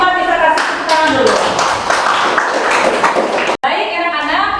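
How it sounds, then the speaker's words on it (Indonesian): Students in a mathematics classroom clap together for a group that has just presented, a steady patter of hands with children's voices chattering over it and a brief break near the end. "bisa kasih tepuk tangan dulu."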